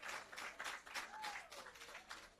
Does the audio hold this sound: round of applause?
yes